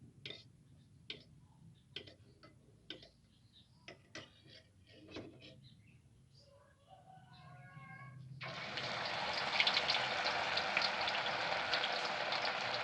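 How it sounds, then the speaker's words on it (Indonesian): A series of sharp ticks and clicks comes first, then oil bursts into a loud, steady sizzle as tempeh sempol goes in to fry. "Kita lakukan proses ini sampai semua sempol yang kita buat tadi kita goreng."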